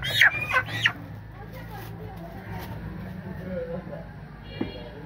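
Large hens gather to peck at scattered grain, giving a few close, loud clucks and squawks at the start, then softer, sporadic fowl sounds over a steady low background murmur.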